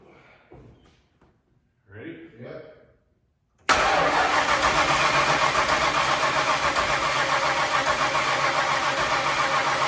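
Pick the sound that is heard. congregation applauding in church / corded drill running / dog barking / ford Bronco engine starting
ford Bronco engine starting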